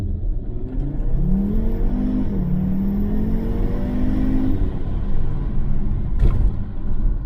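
A 2012 Audi RS3 hatchback with a five-cylinder engine and all-wheel drive accelerates hard. Its engine note rises steadily through the revs as one continuous loud, close-up pull, with a brief shift near the end and no talking.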